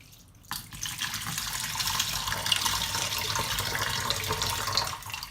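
Water poured over sprouting lentils, a steady close splashing stream that starts suddenly and runs without break for several seconds.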